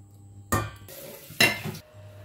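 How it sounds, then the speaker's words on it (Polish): Blended pineapple poured from a container into a pot of pineapple juice, heard as two short wet, clattering bursts against quiet kitchen background. "Teraz przelewamy nasze zblendowane ananasy i zagotowujemy."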